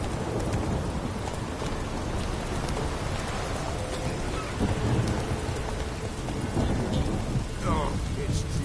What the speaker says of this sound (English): it's drizzly.